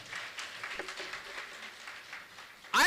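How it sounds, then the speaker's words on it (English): Conference audience clapping for a speaker at the Kenya Nurses & Midwives Conference UK 2025, a moderate, sustained wash of applause that ends with a sudden loud burst. "Can we clap for her again?"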